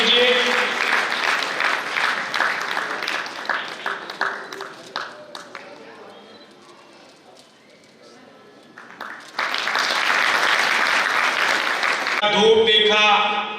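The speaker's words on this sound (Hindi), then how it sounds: "जोरदार ताली से इनका अभिनंदन कीजिए।" An audience bursts into strong applause, loud claps rising into a dense wall of clapping, then tapering off before a second big round of applause swells up again.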